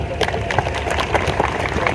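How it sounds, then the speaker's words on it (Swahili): A crowd claps in steady, dense applause for a group of young people at an official Uganda/Tanzania-style public event, with a voice talking over the clapping. "Naomba vijana hawa tuwapigie makofi sana"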